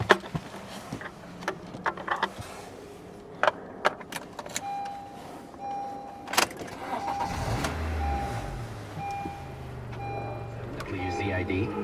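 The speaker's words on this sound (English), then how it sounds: "So let's start her up." A 2016 Honda CR-V with a P0420 catalyst fault starts: keys jangle and clicks come first, then the engine cranks, catches and settles into a low steady idle, with someone talking over parts of it.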